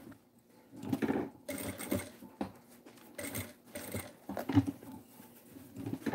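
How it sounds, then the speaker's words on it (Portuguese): A sewing machine runs stitches along a fabric cutlery holder in bursts of rapid mechanical whirring, starting and stopping several times with short pauses, close and fairly loud. "Daí vou passar outra costurinha aqui."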